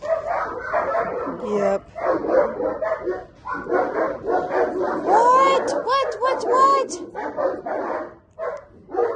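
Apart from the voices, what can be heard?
dogs barking downstairs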